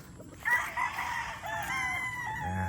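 A young stag rooster, a gamecock bred for cockfighting derbies, crows a drawn-out cock-a-doodle-doo close by, and its call trails off over faint background noise.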